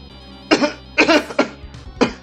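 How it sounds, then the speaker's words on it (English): A person coughs several times in rough, harsh bursts, close up, with short gaps between each cough. "Apologies about the coughing, it's just nasty and a lot out of control right now."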